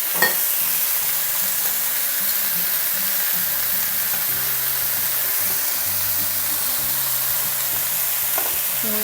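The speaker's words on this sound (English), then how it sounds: "So that's nice and hot, and it's searing right away." Beef searing hard in a very hot pan for Polish beef rolls, a loud, dense, continuous sizzle up close with a single knock at the start and faint clatter near the end.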